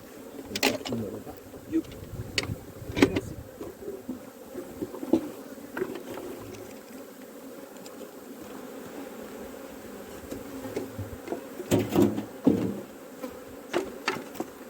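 Honeybees buzz around hives while swarms are prepared and split, a steady hum close by with intermittent knocks and handling bumps of hive equipment.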